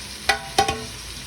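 Onions sautéing with salt in a pan, with a soft frying hiss under a few sharp clinks and scrapes of a utensil stirring against the pan; no one speaks.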